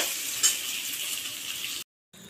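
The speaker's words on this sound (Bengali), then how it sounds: "আবার 5-7 মিনিট আমি একটু ভেজে নেব।" Chili chicken frying in oil over a medium flame gives a dense, steady sizzle up close, which cuts out abruptly to silence before briefly resuming; no speech.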